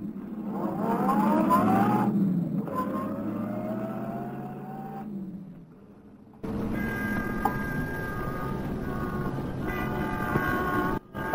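A car engine starting up and pulling away in an old-time radio drama, a steady motor rumble with a rising whine, a brief pause, then a continuous loud driving drone with a horn-like tone.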